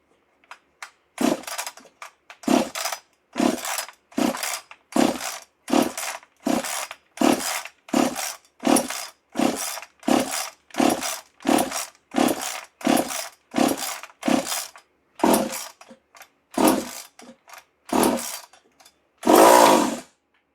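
A race chainsaw fitted with a swapped recoil starter is yanked repeatedly, about two dozen rhythmic rasping cord pulls in quick succession without the engine catching, ending in a slightly longer sputtering burst.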